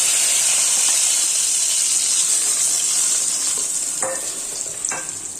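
Ground cooked jackfruit paste fries in ghee in an uruli, a loud steady steamy sizzle right up close, with a couple of spoon scrapes near the end as the hiss slowly eases.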